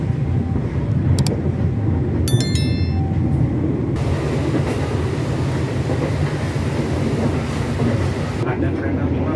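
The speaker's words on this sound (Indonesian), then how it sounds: "kereta api Kahuripan sudah berangkat dari stasiun Blitar" Kahuripan passenger train pulling out of Blitar station, a steady loud rolling rumble with rail clatter and brief higher squeals and tones, continuous throughout with a faint voice in the background.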